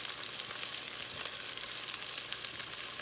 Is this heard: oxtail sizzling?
yes